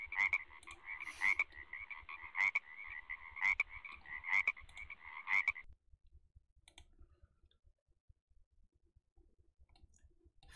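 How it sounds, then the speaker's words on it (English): Rhythmic croaking from a frog in a video game, a bright repeated call with clicks, loud for about five seconds before dropping to faint ticking and near silence. "Frog."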